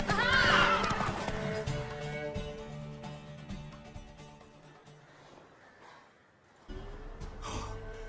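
A horse in The Witcher 3 video game gives a loud whinny at the start, followed by snorts and breathy sounds over a sustained musical tone, then a quieter pause before the sound swells again.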